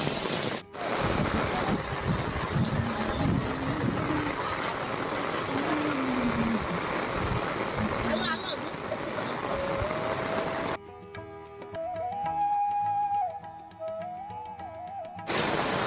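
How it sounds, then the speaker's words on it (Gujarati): Fast-flowing river water rushes past houses with a steady broadband roar and wind buffeting the microphone. Near the end the water gives way to a quieter tonal background. "નદીનું પાણી જાય છે એટલું તેજ"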